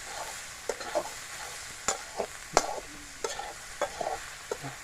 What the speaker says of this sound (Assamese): হালধি দি ধুনীয়াকৈ লাৰি দিলোঁ।